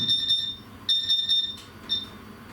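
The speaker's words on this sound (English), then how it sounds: "and there will be an alarm" Alarm on a laser engraver system as it is switched on: three short bursts of shrill electronic beeping, loud and close, separated by brief pauses over a faint background hum.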